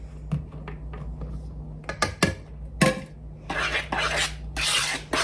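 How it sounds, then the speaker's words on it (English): Brownie batter with flour is stirred in a bowl with a utensil, giving scraping and clinking knocks against the bowl. Bursts of rasping mixing noise follow, close and fairly loud, with no talking. "And mix that until everything is combined."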